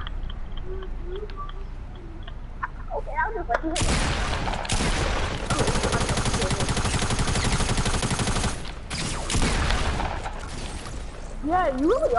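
Rapid automatic gunfire in Fortnite, a dense sustained burst of loud shots lasting several seconds, with game sound effects and brief chirpy tones before and after.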